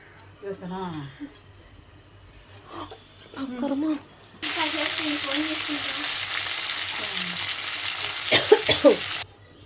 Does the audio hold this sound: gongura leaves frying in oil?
yes